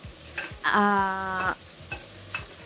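Shimeji and enoki mushrooms stir-fried in a pan: a few scraping stirs and a light sizzle, close by, with a brief high-pitched tonal squeal in the middle.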